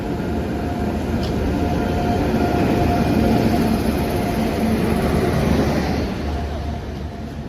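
An express train, locally called the Dum Dum train, passes close by with a loud, steady rumble and rush of wagons that holds for several seconds before easing slightly near the end.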